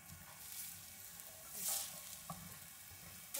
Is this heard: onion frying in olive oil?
yes